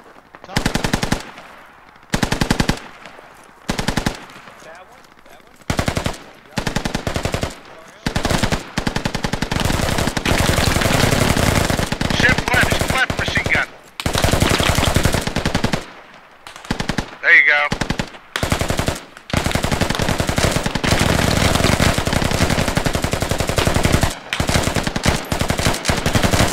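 Gunfire in the military shooter Squad: loud machine-gun bursts, first choppy and broken by pauses, then long sustained automatic fire with brief gaps, near and dominant, with voices talking intermittently.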